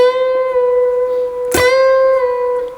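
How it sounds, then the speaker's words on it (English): A single clean electric guitar note rings steadily near and loud, with a pick attack partway through and the pitch held as the string is bent up toward C. "we're going to bend up to it anyway"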